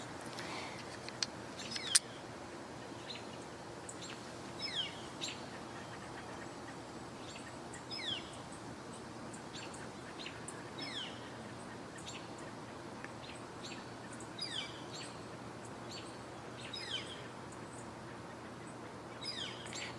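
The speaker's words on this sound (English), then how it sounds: "So we're hearing both robins and a northern flicker, which is a kind of woodpecker" Robins and a northern flicker woodpecker calling outdoors: repeated faint chirps and short calls scattered over a steady background hiss, distant and quiet throughout.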